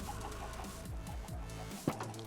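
Chickens cluck repeatedly in the Minecraft video game, a steady run of short clucks over a dense background of game sound, with one sharper peck-like burst near the end.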